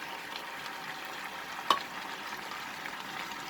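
Ground coriander, cumin, turmeric and Kashmiri red chili powder fry in a pan with flat beans, a steady soft sizzle with one brief scrape or clack midway, close and quiet.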